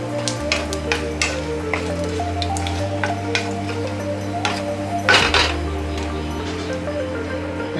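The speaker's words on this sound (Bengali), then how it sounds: "আলুটা ভেজে নিই।" Potatoes fry in a pan with a spiced tempering, giving a steady close sizzle, with occasional clinks and scrapes from stirring and one louder stir near the end; no one speaks.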